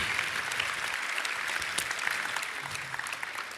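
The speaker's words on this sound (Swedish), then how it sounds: "Låt oss ge en varm applåd för våra konferensier, Anders Dahlbom, Wettergren och Alexandra Sa" Sustained applause from an audience greeting the hosts at the Årets Kock 2015 chef competition award ceremony, a dense steady wash of clapping throughout without speech.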